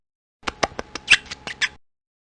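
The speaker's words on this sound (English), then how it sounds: "Mouse." A cartoon mouse in a children's PC game of Aesop's fables gives a quick burst of about eight sharp, high squeaks in an uneven rhythm, heard alone and close.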